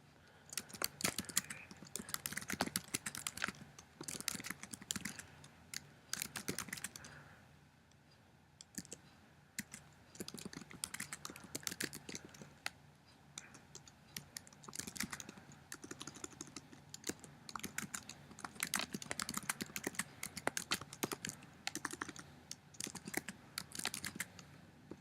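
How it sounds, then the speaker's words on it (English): Fingers type steadily on a computer keyboard, soft close key clicks in quick bursts with short pauses, quiet and alone with no speech. "now I'm going to simply type in my directions."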